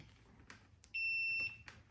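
One clear, steady electronic beep from a multimeter continuity test lasts about half a second, framed by faint clicks of probes touching in a quiet room.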